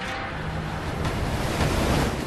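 Waves crash against a rocky Pacific Northwest coast backed by tall fir forest, a loud continuous roar of surf with wind rushing across the microphone.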